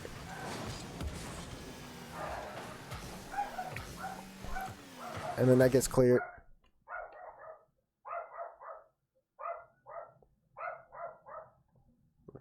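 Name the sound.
dog barking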